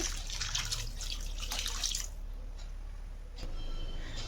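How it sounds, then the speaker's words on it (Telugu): Water splashes and trickles into tamarind juice in a clay pot, a close, steady pour for about two seconds that fades to faint drips, with no one talking. "తర్వాత కాస్త సరిపడేలా నీరు అయితే వేసుకుంటున్నాను"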